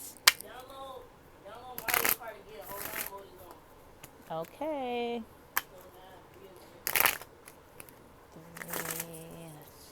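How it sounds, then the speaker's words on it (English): Oracle cards are shuffled in repeated crisp riffling bursts, close up, while a person speaks briefly between them. "I'm going to shuffle these cards 8 times."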